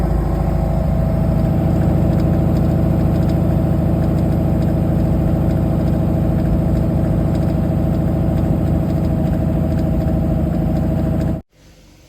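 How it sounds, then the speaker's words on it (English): A car engine idling steadily, with an irregular ticking that comes and goes when revved, recorded up close as a loud, continuous drone with faint rapid ticks over it, ending abruptly near the end. "Been getting a ticking noise at idle, and it sort of goes away when you rev it up."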